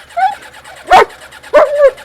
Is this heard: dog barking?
yes